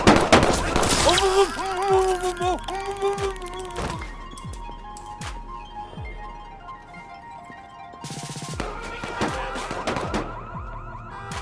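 Gunfire in Watch Dogs 2 as a suspect opens fire: sharp shots land over a busy game soundscape with an alarm-like tone and music, with a cluster of reports early and more scattered bangs later, while people talk.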